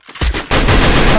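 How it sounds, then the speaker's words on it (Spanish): Video game gunfire: a couple of quick shots followed by a loud, sustained automatic burst, close and heavy, with no voices. "Le disparamos primero, Gil"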